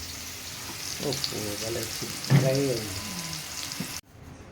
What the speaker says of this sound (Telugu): ఈ కలర్ వచ్చేంత వరకు వేయించుకోవాలి మంచిగా వేయించుకున్నాక పచ్చివాసన పోయేంత వరకు వేసుకోవాలి